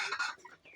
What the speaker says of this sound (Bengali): তার পাশেই আছে আবার ফার্মি মুরগি ডিম পাড়া